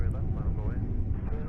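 An Air France airliner passes near SFO airport, a broad low engine roar that stays steady throughout while people talk over it.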